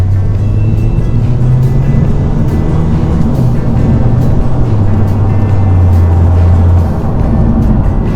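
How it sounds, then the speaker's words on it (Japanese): Steady engine drone with tire roar from inside a moving Mazda NC Roadster RHT custom car, the engine pitch rising and dropping as gears shift, continuous and fairly loud. "結構エンジンの変速の音が入ってくるのが分かりましたかね。"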